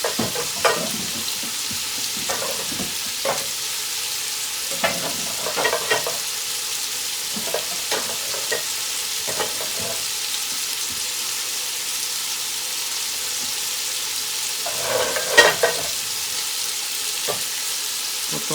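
Food browns in the cooking pot it will be cooked in, a Mardi Gras kitchen dish. It gives a steady close sizzle, broken by repeated louder bursts of stirring and scraping.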